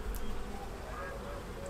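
Black bees buzz at a hive in a dense, steady hum, close and even, with a low voice murmuring faintly underneath.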